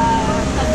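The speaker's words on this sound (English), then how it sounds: "The rain is too loud." Heavy monsoon rain pours down outside a room in Varanasi, a dense, steady roar of water that fills the whole moment with no break or change in level.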